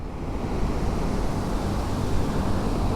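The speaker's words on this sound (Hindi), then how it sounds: "ये बगल में बहती नदी" A river flows beside a mountain road on the Sach Pass route in Himachal, a steady broadband rush of water close by, mixed with wind, continuous and loud throughout with no talk.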